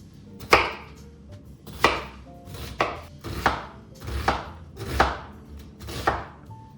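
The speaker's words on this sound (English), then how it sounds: "And so the onion I just diced" Half an onion being diced with a knife on a cutting board, about seven crisp, evenly spaced chops, close and fairly loud with no talking.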